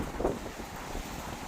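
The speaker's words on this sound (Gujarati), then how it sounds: "પવન પણ ફૂલ પવન છે, જો એટલો પવન બધું છે" Strong gusty wind blows outdoors near a shopping park, a continuous rumbling rush with microphone buffeting and a slight swell partway through, no talk.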